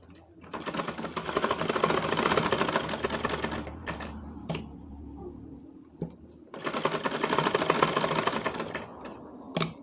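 Sewing machine stitching a design onto a kameez, two bursts of rapid, steady mechanical chatter separated by a quiet pause, close and clear.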